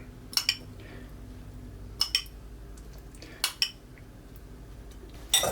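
Utensils clink against a bowl in short bursts while separated salad dressing is stirred again for a Lyonnaise salad, four quiet clusters of metallic taps over faint background hum.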